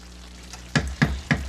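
Spinach with butter, onions and garlic sizzles in a pan with a low steady fry, broken by three loud clattering stirs or scrapes in quick succession near the end.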